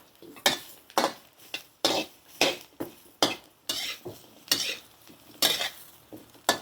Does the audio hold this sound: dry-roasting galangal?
yes